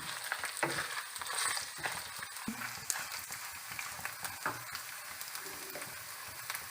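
Chicken karahi base with chopped garlic, ginger and whole garam masala fries in hot oil, a steady close sizzle with stirring scrapes and clinks throughout.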